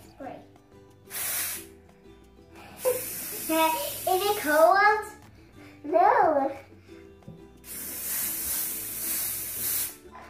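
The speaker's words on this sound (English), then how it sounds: "And now I'm gonna spray the green." Coloured hairspray hissing onto hair in bursts, with several long sprays between pauses, close and loud, while a voice and another speaker talk in the gaps.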